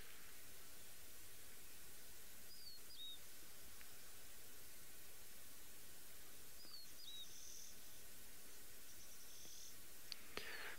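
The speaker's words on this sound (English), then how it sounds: "bird that's calling, and that's our friend the rufous-naped larks" A rufous-naped lark calling in the Maasai Mara, a few faint, short whistled notes repeating at intervals against a steady hiss of wind and background noise, distant and quiet.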